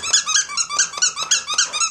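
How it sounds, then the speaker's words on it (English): Rhodesian beagles tug at a squeaky toy, producing rapid repeated high squeaks in a steady rhythm with faint growling and snorting underneath, close and loud. "Oh, hear the snorting? They're angry dogs."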